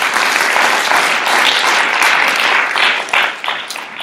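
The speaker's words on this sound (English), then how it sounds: "Clap for this whole group." A classroom audience applauds a student group, with dense, loud clapping that holds steady for several seconds and then thins out and tapers off.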